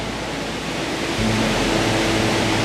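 A waterfall roars with steady broadband rushing water, continuous and loud throughout, growing slightly fuller partway through with no voices.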